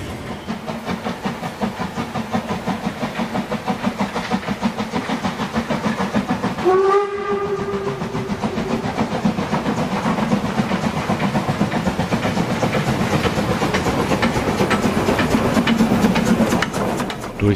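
A Harz narrow-gauge steam train chugs steadily and loudly nearby, with a long, sharp steam whistle blast partway through over the continuous rumble of the rails.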